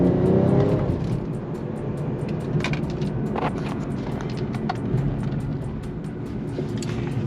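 A BMW G20 M340i xDrive in Sport Plus with an uncatted aftermarket downpipe, accelerating with a steady, moderately loud exhaust drone and faint crackles heard from inside or near the car.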